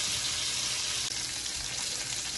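Oxtail frying in a pot over medium-high heat, a dense, steady sizzle and crackle that runs loud and unbroken throughout, with no voices.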